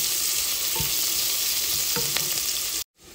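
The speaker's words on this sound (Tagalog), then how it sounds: "Ginger at saka onion. Ginigisa na" Ginger and onion sauté in a hot pan with a steady, loud sizzle, a few stirring clacks of a utensil partway through, then a sudden brief drop to near silence before the frying resumes.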